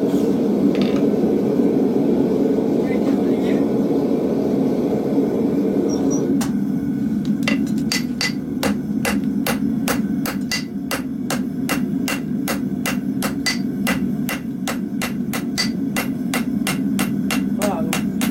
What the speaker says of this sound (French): Je vais venir souder mon oignon.